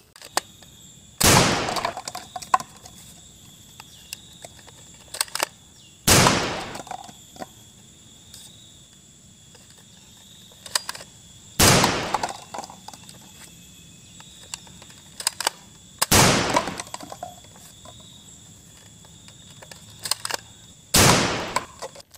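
A toy Blaster Gun Elite fires five separate sharp cracks, spaced about five seconds apart. Each shot is loud and close, and a faint mechanical hum runs between the shots.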